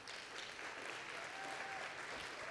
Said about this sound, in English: Can we get a round of applause for our judges?